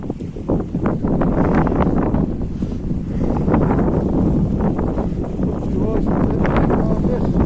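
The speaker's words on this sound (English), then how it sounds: "we have got a bit of the wind back" Strong wind buffets the microphone on a coastal walk between Altea and Albir, a loud continuous roar with gusting low rumble throughout, and a voice talking faintly beneath it.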